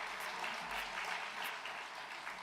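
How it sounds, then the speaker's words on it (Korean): Church congregation applauding during a Sabbath sermon, a soft, distant, continuous patter of many hands clapping that holds steady throughout. "뭐 더 크게 박수를 치셔도 됩니다."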